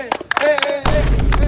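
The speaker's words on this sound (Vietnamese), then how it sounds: "Vỗ tay đi anh em." A group of young people claps hands together in a burst of quick, uneven claps, with voices talking and shouting over it and a rough, noisy rumble joining in partway through.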